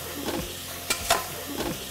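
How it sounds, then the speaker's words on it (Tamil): Tomatoes sautéing in a pan for pepper chicken masala, a faint, low sizzle with a couple of brief stirring scrapes over about two seconds. "தக்காளி வதங்கிடுச்சு"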